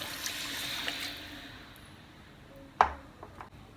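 Water poured from a small mixer jar into ground chilli paste in a cooking pan for prawn sambal, a soft steady trickle and splash throughout, with a sharp clink of the jar against the pan near the end.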